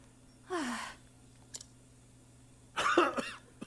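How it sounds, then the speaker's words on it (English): Two coughs from a character in the video game Octopath Traveler, a short hoarse cough followed after a pause by a louder, raspier one, close and clear over a faint background hum. "Cough, cough."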